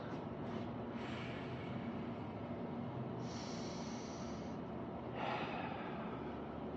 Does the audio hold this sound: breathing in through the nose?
yes